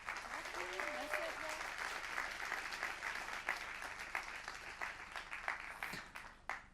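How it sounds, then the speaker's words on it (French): Applause from the audience at the closing of the Lab Postal 2017 innovation event, moderately loud clapping sustained for several seconds with a faint voice briefly heard over it before it tapers off. "vous pouvez tous l'applaudir très fort, elle le mérite"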